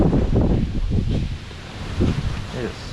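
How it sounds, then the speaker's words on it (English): Strong outdoor wind buffets the microphone in steady rumbling gusts beside a 2021 Kia Sedona during battery disconnection, with someone talking over the noise. "it is so windy."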